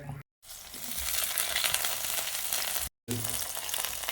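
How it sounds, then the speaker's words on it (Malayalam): Mustard seeds, ginger, green chili, garlic and curry leaves frying in a pan: a bright, continuous crackling sizzle, close and even, broken by two short silent gaps. "ഒരു ചട്ടി വെച്ചു കടുക് പൊട്ടി ഇതിലേക്ക് ഇഞ്ചി പച്ചമുളക് വെളുത്തുള്ളി കറിവേപ്പില കൂടി ചേർത്ത് കൊടുക്കും"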